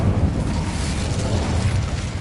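An Incendio fire spell cast in Hogwarts Legacy on PS5, heard as a loud, steady rumbling burst of flame that roars continuously through the moment with no voices.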